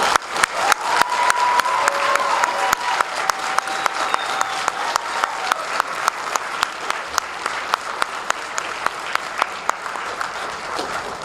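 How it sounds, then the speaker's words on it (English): An audience applauds after a middle school and high school orchestra concert, a steady, sustained wash of many hands clapping in a hall, with sharp individual claps standing out near the microphone. "So give them a big round of applause."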